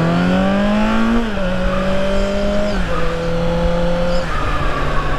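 A Kawasaki Z900 or Aprilia RSV4 1100 Factory motorcycle accelerates hard, its engine note climbing through several rising pitch sweeps with brief dips at each gear change, loud and close throughout.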